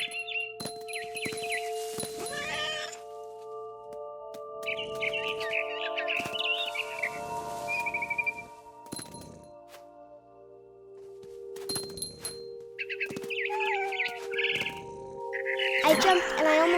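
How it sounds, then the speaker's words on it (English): Barn swallow chirps in What Remains of Edith Finch, short bright twittering bursts recurring through the scene alongside steady tonal game sounds and scattered knocks, moderately close. "Then I heard chirping outside my window. It was a barn swallow going back to her nest."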